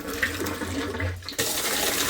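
Water gushing fast from a pump outlet on a village farm, a steady loud broadband rush with a brief dip midway before it surges back, heard alone without talk.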